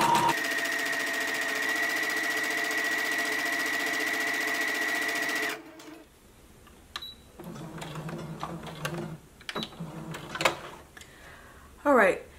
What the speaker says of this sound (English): Now lower your needle, begin sewing, and back stitch